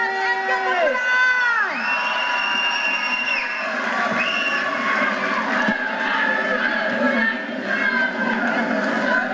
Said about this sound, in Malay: Kita berikan tepukan untuk Langkah Cilik.